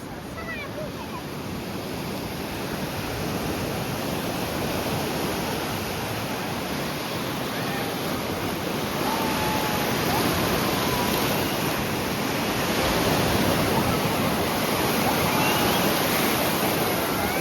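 Sea waves at Kihim beach make a broad, continuous roar of surf that swells slightly louder toward the end, heard close and steady throughout.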